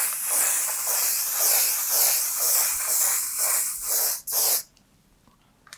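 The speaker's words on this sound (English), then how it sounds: "I'm going to set everything with the setting spray that I got from Valerie" A mattifying waterproof makeup setting spray misted close by in a long continuous hissing burst, then a brief final spurt before quiet.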